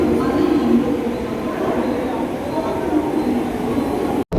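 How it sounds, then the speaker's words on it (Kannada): A Mumbai local train pulls into a station with a steady, loud rumble and clatter of rail cars that fills the scene, while people talk over it and the sound cuts off abruptly at the very end. "ಮತ್ತು ಟ್ರೈನ್ ಬಂದೇ ಬಿಡ್ತು ನೋಡ್ರಿ ನಮ್ಮದು."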